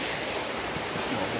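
Steady broadband rush of a waterfall at a riverside barbecue spot, a continuous even hiss of falling water, moderately faint and with no talk over it.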